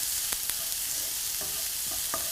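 Onions fry in a pan, cooking toward golden brown, with a steady soft sizzle and a few light stirring scrapes and taps throughout. Quiet and close, with no talking.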